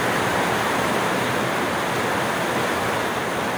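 Heavy rain pours down steadily in a loud, dense, unbroken hiss, with no voices over it.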